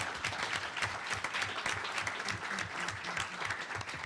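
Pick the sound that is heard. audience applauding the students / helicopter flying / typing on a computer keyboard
audience applauding the students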